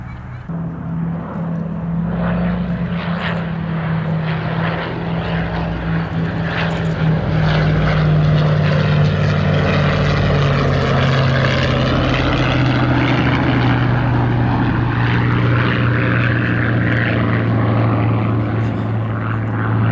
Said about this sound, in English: airborne were fighters such as this, the Mustang. And behind it, Boeing B-17G Flying Fortress Sally B.